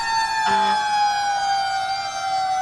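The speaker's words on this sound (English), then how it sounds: "That actually is the siren, believe it or not." A steady fire truck siren tone holds across the whole clip, loud and continuous, with a brief horn-like blast partway through, at a Christmas street event.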